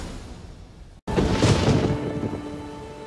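Rain falls in The Witcher 3 as a soft steady patter, then after a brief silence a loud thunder rumble rolls in and fades slowly under continuing rain.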